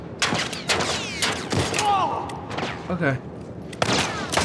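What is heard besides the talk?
gunfire in the video game The Last of Us Part I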